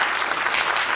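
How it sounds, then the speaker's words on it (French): A brief, dense patter of audience clapping at an alumni general assembly on a university campus, moderately loud and even for its short span. "je veux bien qu'on applaudisse les grands donateurs qui ont permis aussi à cette fondation de voir le jour"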